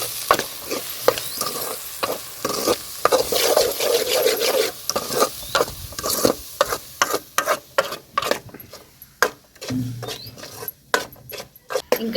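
Masala spices being stirred into a mushroom curry in a cooking pan, with repeated close scraping strokes of a spoon over a soft sizzle that fades in and out.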